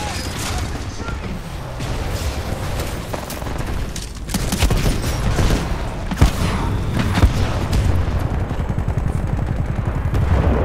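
Dense, continuous gunfire in a Titanfall 2 multiplayer match, with rapid automatic bursts and occasional louder booms layered into a chaotic, loud battle din.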